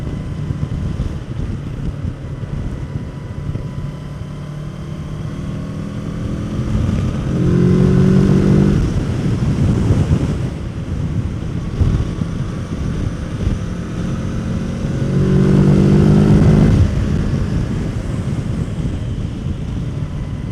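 Motorcycle ride with heavy wind rush over the microphone and a steady engine drone that swells twice as the rider revs and accelerates. No one speaks.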